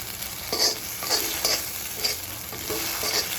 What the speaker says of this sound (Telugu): దాంట్లో మనం వేసుకొని మంచిగా ఫ్రై చేయాలి.